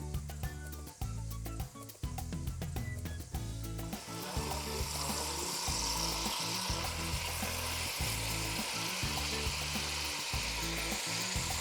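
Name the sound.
vegetables and aromatics sizzling in pan for brasato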